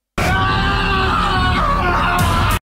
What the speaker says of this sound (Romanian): urlă foarte tare în acest trailer pentru că pățește ceva